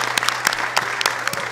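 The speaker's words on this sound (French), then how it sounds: "Merci d'applaudir encore pour elle, s'il vous plaît." Brief applause from an audience at a fashion show, a loose patter of individual claps with distinct sharp hand strikes close by, moderately loud.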